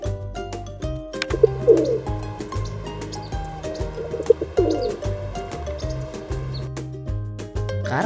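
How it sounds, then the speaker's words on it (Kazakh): A cartoon-style pigeon coo, two soft repeated calls rising over a bouncy children's music backing, in an animal-sounds clip. "көгершін,"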